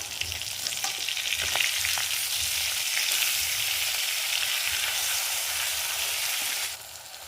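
Sardines sizzling in hot oil for a Kerala-style mathi fry, a steady close crackle that runs for most of the stretch and then drops away near the end, with no voices.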